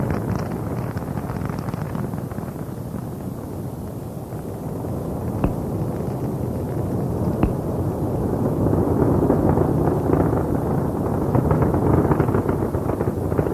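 Space Shuttle Columbia's three main engines at 104% thrust during launch make a continuous, heavy roar with a deep rumble that swells slightly toward the end, with no voices.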